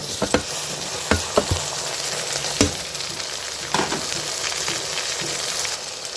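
Tomatoes and green chilies sauté in a pan for a country chicken curry, a steady loud sizzle broken by a few sharp scraping stirs, with no talking.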